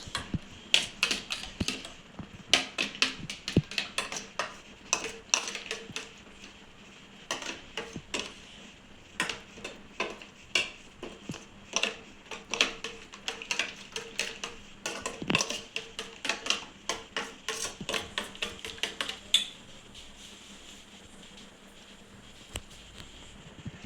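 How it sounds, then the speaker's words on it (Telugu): Beaten eggs whisked in a bowl with a spoon or fork for an omelette, making a steady run of quick, light clicking taps against the bowl that carries on close and alone. "అంత మంచిగా కలిపేసుకోండి."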